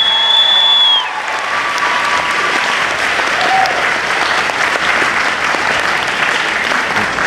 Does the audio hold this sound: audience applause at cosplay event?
yes